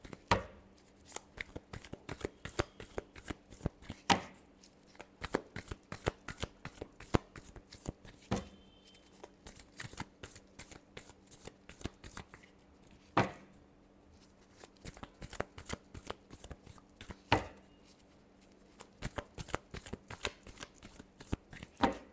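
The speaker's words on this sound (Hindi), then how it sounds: "last shuffle" A deck of tarot cards is shuffled over and over, giving quick irregular taps and riffles with short pauses between them, fairly quiet and close, with no talking.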